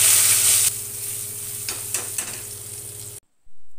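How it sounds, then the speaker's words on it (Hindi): A kadhai of apple gourd (tinda) pieces cooking on a low flame is shaken, a loud continuous sizzle with a few scraping shuffles of the pieces, cutting off abruptly near the end. "कढ़ाई को हिला देंगे।"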